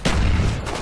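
Gunfire in a Call of Duty Black Ops Vietnam-war mission: a dense, loud burst of shots filling under a second, with heavy low-end rumble and no pause.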